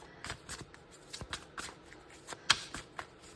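Tarot cards being shuffled by hand, a run of crisp papery flicks and soft riffles in uneven rhythm, close and fairly quiet, with no one speaking.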